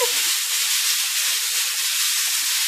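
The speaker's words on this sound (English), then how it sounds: "I'm going to add the onion and the diced meat. You're just trying to get all this browned" Onion and diced meat sizzle steadily in a hot pan while browning for a low-carb crockpot chili, a continuous close hiss with no talk.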